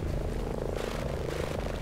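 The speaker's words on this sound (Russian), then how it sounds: "Боевой дрон в воздухе." A combat drone flies overhead in the game Ghost Recon Breakpoint, a steady droning rotor and engine hum with a continuous buzzing whirr, fairly constant in level, mixed with faint game ambience.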